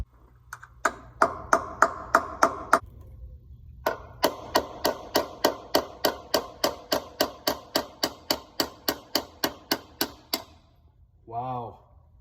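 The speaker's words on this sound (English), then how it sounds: "That gives me access to get in there with a chisel and a hammer." Sharp metallic hammer blows strike a chisel against a transfer case seal on a Ford Super Duty in a steady, rapid series, pausing briefly before resuming a long run of evenly spaced strikes; a short voiced sound ends it.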